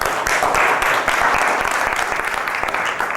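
A crowd at a DaVinci Institute programming talk claps to welcome the next speaker: a dense, steady wash of applause that fills the whole stretch at close, even loudness, with no voices on top.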